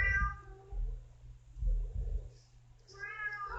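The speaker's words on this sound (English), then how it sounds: "Kitty, stop meowing." A cat meows nearby several times, with clear drawn-out mews at the start, in the middle and at the end. A steady low electrical hum runs underneath.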